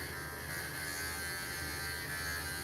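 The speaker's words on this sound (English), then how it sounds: "All right, we shaved all the pads." An electric clipper works on the paw pads of a Morkie dog, a steady close buzzing hum that runs evenly without pause.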